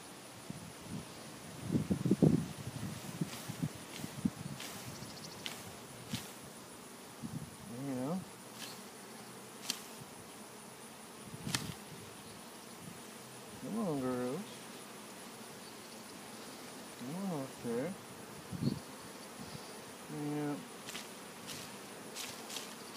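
A swarm of honey bees being caught, with faint buzzing and bees passing close to the microphone in short bursts over a quiet outdoor background, plus occasional rustling and handling.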